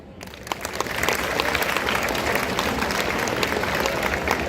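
Sustained audience applause at a national homoeopathic summit in Vadodara, a dense wash of many hands clapping that swells within the first second and holds steady and loud throughout, with no voices over it.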